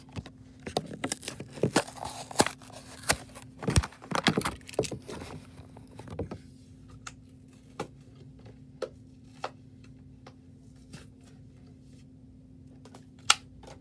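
Diecast figure being unboxed from its packaging: clustered crinkles, taps and clicks of plastic and cardboard in the first six seconds, then sparse isolated ticks over a steady low hum, no voices.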